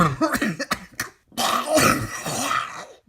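Several rough coughs and throat-clearing bursts, close and fairly loud, in an irregular cluster over a few seconds, ending in a longer harsh spell.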